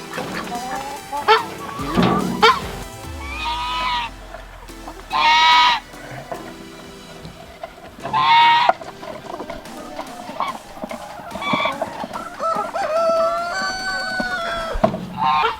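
Chickens cluck and squawk close by in a noisy bunch, with several louder, drawn-out calls rising above the steady clucking.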